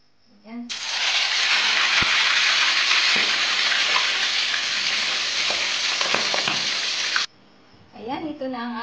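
Daing na bangus, dried milkfish, dropped into a hot pan bursts into a loud, steady sizzle that holds for several seconds before cutting off, with a voice talking briefly before and after.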